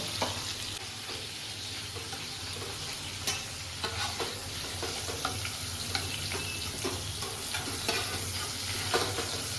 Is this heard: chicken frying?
yes